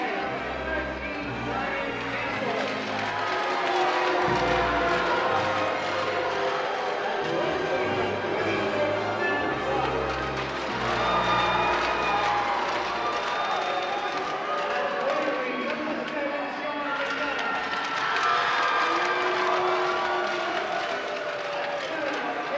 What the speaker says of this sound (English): Hear the ovation that the Rebels got from their faithful followers here.